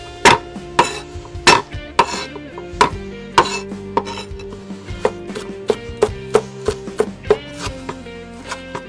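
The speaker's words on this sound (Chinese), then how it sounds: "辣椒切成圈" A knife chops chili peppers into rings on a cutting board in a rural home kitchen, with sharp, regular strikes in a quick rhythm, close and clear, with no talking.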